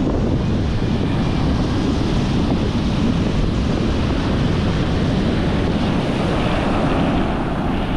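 Loud, continuous sea surf rolls in close beside a flooded coastal road, with heavy wind buffeting the microphone throughout and no voices.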